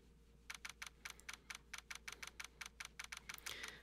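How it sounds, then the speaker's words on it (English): Video game typewriter effect from Phoenix Wright: Ace Attorney, a rapid, steady series of crisp mechanical key clicks spelling out on-screen text, faint and played alone over a low hum. "I love that typewriter sound, by the way."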